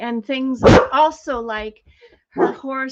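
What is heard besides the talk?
dog barking at horses outside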